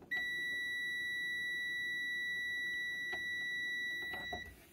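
A multimeter gives one continuous high electronic tone during a continuity test on a 5.5 or 4 kilowatt hot tub heater element. The beep holds steady for several seconds with faint clicks of the probes, then cuts off.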